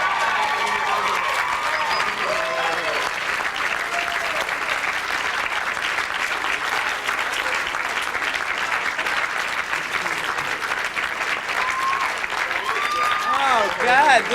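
Loud, continuous crowd applause with scattered cheers and whoops at a Hollywood presentation as director Joel Schumacher comes up, holding steady and swelling near the end, with voices faintly audible in the mix.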